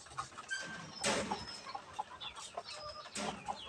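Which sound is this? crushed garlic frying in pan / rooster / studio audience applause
rooster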